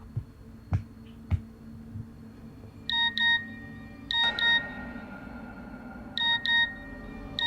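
A phone message notification tone sounds as three separate bursts of short, bright paired chimes, each set clear against a quiet room. A couple of soft taps come earlier, and no one speaks.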